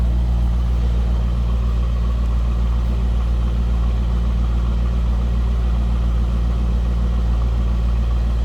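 A 2003 Chevrolet Corvette convertible, a 50th Anniversary edition, idles steadily with a deep, even low rumble heard from behind the car, without talk.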